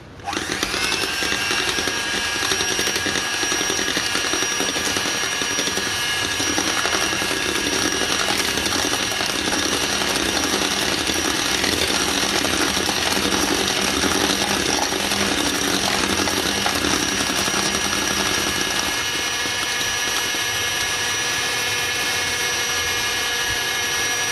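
An electric mixer beating eggs with sugar for a Black Forest cake, a loud, steady high whine that holds without a break the whole time and drops slightly in pitch near the end.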